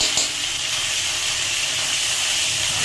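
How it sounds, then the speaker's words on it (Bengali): Ginger paste sautés in a pan for a Bengali pumpkin, potato and prawn curry, giving a steady, close, broadband sizzle and hiss that holds evenly throughout with no talking. "আদা বাটাটা দিয়ে খুব ভালো করে কষিয়ে নিতে হবে।"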